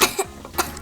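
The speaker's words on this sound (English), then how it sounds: "I hear coughing. Who's coughing?" Coughing from a sick child at home, two or three short harsh bursts close to the microphone with no talk over them.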